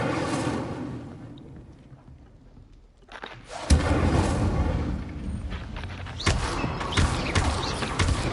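In the video game Hogwarts Legacy, an Incendio fire spell is cast: a quiet creaking lull, then a sudden booming burst that turns into a sustained crackling roar, with a second flare of impact near the end.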